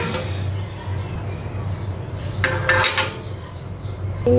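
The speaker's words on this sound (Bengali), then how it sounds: "আর স্টিমটার উপরে আমি এখন দিয়ে দিব আমাদের তৈরি সেই পুডিংটা" A pudding bowl is set onto a rice cooker's steamer tray, producing a few close clinks and metallic knocks around the middle and a final clink, over a steady low kitchen hum.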